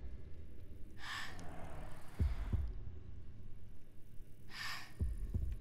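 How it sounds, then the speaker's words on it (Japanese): Trico's heartbeat in The Last Guardian video game thuds in soft, low double beats at a slow pace, accompanied by breathy gasping and sighing sounds from the giant creature, close and quiet. "やばい、トリコの心臓の音が聞こえる。"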